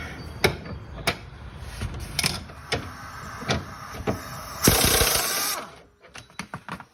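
Breaker bar on an 18 mm socket loosening a tuning fork control arm bolt on a Porsche 986: sharp metallic clicks and knocks at intervals, a brief rasping burst, then a few quick ratchet-like taps.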